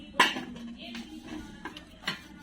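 A triply 304 stainless steel fry pan and its lid are handled in a shop, giving a few light metallic clinks and taps over a quiet background.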